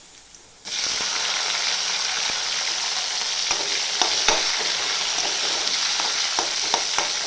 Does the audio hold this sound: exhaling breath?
no